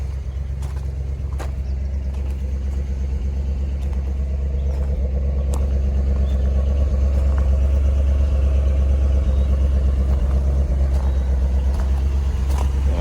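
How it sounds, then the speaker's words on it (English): A Dodge Challenger's engine runs steadily after a cold start, a continuous low rumble that swells slightly over time, with faint clicks and shuffling nearby. "That's the engine running on this Challenger."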